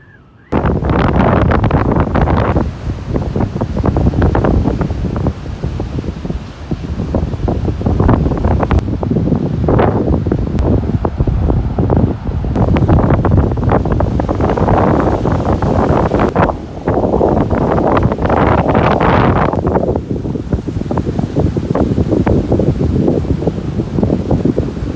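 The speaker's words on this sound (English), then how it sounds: "You can still hear the wind whistling." Strong wind blows steadily at Faria Beach, roaring and gusting loudly across the microphone for the whole stretch, with surging wave-like swells and no voices.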